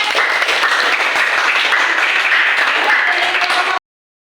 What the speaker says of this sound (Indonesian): Ya, kasih tepuk tangan dulu teman-teman.